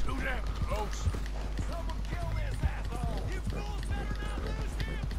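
Horse hooves in Red Dead Redemption 2 beat out a steady, fairly close rhythm of clip-clop strikes, with quick repeated thuds under a constant low hum and some chatter from a voice.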